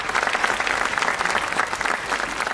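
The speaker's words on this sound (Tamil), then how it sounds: "இவ்வளோ கைத்தட்டு எதுக்குமே வரல, உங்களுக்கு தான் வந்தது" Dense, steady applause from a studio audience at a Tamil Sun TV comedy show, many hands clapping loudly and evenly for the whole stretch with no break.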